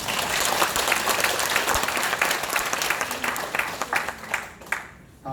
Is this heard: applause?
yes